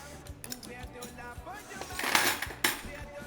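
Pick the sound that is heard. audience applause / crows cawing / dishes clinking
dishes clinking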